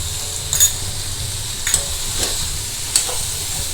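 Ivy gourd stirred with tomato and onion in a pan, a low continuous sizzle with several distinct scraping strokes of a spoon spaced a second or so apart.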